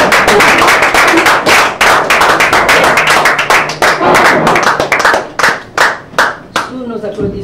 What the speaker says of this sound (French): sous nos applaudissements.